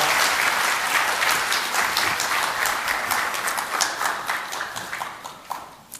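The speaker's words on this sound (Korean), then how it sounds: "큰 박수 부탁드리겠습니다" A roomful of people at a conference clapping loudly at first, the applause thinning and fading toward the end.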